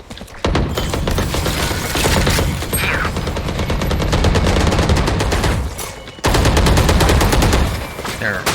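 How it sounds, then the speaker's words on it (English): Rapid automatic gunfire from the tactical shooter Valorant, loud and sustained in dense bursts with brief pauses, players firing into their own smoke on site B. "They're firing into their own smoke."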